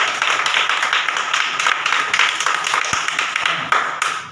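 Schoolchildren in a government school classroom clap in a quick, uneven burst of close, sharp slaps that carries on for several seconds.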